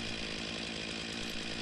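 A chainsaw runs steadily while cutting into a thick tree during felling with a hand winch, its engine a dense, continuous buzzing drone, fairly distant and even in level throughout the short stretch.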